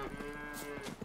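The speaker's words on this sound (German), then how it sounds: "Kühe und Ziegen." A cow in the video game The Witcher 3: Wild Hunt lets out one short, drawn moo from a pasture with goats, against faint ambient game sound.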